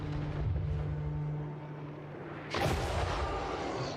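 Cannons fire in a Warhammer Chaos Dwarfs video game battle: a deep rumbling barrage, then one sharp loud blast that rolls on through a continuous battle din.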